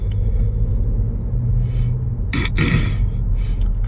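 A car's engine hums low and steady as it picks up speed during a driving lesson, with a brief burst of louder hiss and rumble partway through, close inside the cabin and free of speech.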